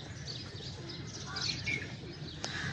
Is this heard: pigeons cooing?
yes